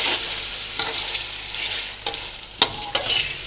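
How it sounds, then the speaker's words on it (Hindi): Chicken for aloo dum biryani fries in a pot with a continuous hissing sizzle. A few sharp scrapes of a stirring utensil stand out, and there is no talking. "2 मिनट चिकन को भून के फिर आलू डालूँगी"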